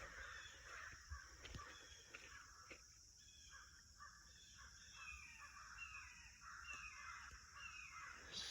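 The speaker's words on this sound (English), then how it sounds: "Sunday shenanigans with the crows." Several crows caw repeatedly in a rural outdoor setting. The harsh calls sound faint and distant and come in irregular bursts over a quiet background.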